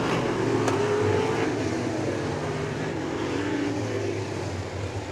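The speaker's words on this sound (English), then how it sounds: "You can see how these cars slip and slide through the corners" Figure 8 race cars slide through the corners of a track in a steady, loud engine roar that rises and falls slightly as they pass, heard alone without voices.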